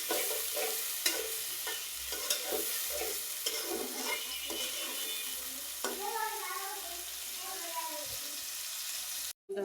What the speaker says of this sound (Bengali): আমি এখন পেঁয়াজটা ভালো করে ভেজে নেব,